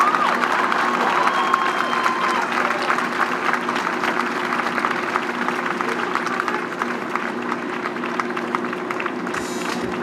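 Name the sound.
audience applause at unveiling ceremony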